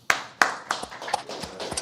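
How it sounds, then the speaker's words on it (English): A handful of sharp hand claps, loud and close, spaced unevenly, then a quicker patter of lighter claps. "Why did you clap for him and not me?"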